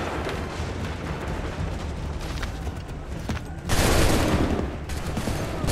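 Musket volleys crackle in Assassin's Creed 3, a steady rattle of overlapping shots that swells into a louder, denser burst near the end, with a distant battle rumble underneath.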